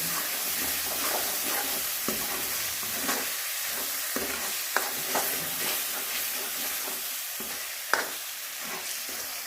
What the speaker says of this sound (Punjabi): ਇਹਨਾਂ ਨੂੰ ਪਾ ਕੇ ਆਪਾਂ ਚੰਗੀ ਤਰ੍ਹਾਂ ਹਿਲਾ ਲਵਾਂਗੇ ਤੇ ਇਹਨਾਂ ਨੂੰ ਆਪਾਂ 5 ਮਿੰਟ ਚੰਗੀ ਤਰ੍ਹਾਂ ਭੁੰਨ ਲਵਾਂਗੇ